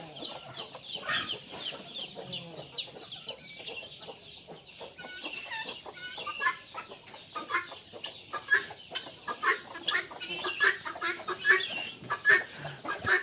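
Country chickens cluck and chatter on a farm, several birds overlapping in busy, irregular bursts that grow livelier toward the end, moderately close with no talk.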